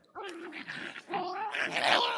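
Ame, a dog, growls while clamping onto a toy, a close, rough, continuous growl with rising whiny, yippy edges that builds over a couple of seconds.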